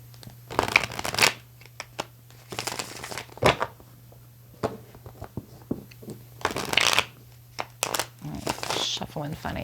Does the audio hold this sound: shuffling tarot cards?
yes